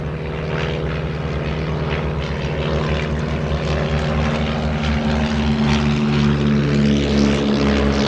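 An Avro 504N propeller biplane flies at the Shuttleworth Air Show 2023, its engine a loud, steady, close droning roar that holds throughout with no break.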